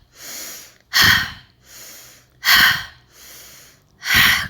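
Forceful yogic pranayama breathing during a heart-opening practice: three sharp, loud exhalations or inhalations alternate with softer, longer breaths in an even rhythm, close and with no talking.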